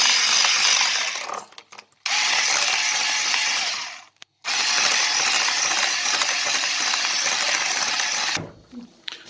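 A hand mixer whips cream filling for a spinach cake, giving a loud, steady mechanical whir that stops briefly twice and cuts out near the end.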